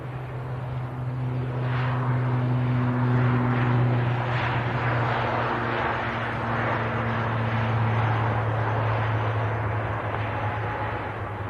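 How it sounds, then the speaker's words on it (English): Loganair ATR turboprop departing Manchester Airport, a steady droning engine roar with a low propeller hum held throughout, fairly distant and even in level, with no talk. "Beautiful departure there. Logan Air ATR."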